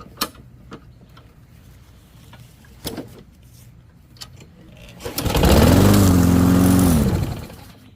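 A Briggs and Stratton lawn mower engine with a replaced carburetor starts after a few clicks and knocks, then runs at a steady loud drone for about two seconds before dying away.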